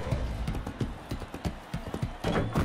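Horse hooves clip-clop at a steady trotting rhythm in the motion-controlled video game Motion Sports, a close, continuous patter of hoofbeats with little else.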